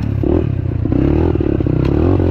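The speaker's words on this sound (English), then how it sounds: "But here, right now, I'm on a 4-stroke." A 2003 Honda CRF 150F four-stroke dirt bike with small wheels running close by, its loud engine throbbing and revving unevenly under clattering, scraping ride noise.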